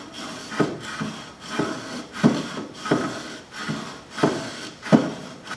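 Wooden grill scraper pushed along hot grill grates, a rhythmic series of about seven rough scraping strokes, each a gritty woody rasp repeating at a steady pace, close and alone.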